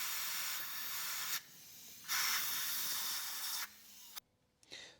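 Compressed air blasts around the valve cover area of a BMW N63TU engine during fuel injector work, coming as loud broadband hissing bursts with short pauses between them, close up and with no talking.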